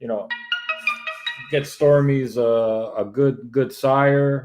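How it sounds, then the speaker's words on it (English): Mobile phone ringtone chiming briefly in a quick melodic pattern, quickly followed by a person talking close to the microphone. "sorry for my phone ringing"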